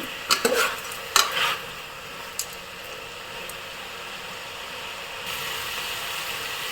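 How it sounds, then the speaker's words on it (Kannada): Boti gojju fries in a pan while a spoon stirs it: a few sharp scraping strokes early on, then a steady quiet sizzle, close by with no talking. "ಈ ರೀತಿ ಸ್ವಲ್ಪ ಚೆನ್ನಾಗಿ ಫ್ರೈ ಆಗಲಿ"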